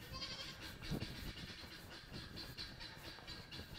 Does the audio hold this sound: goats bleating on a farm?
yes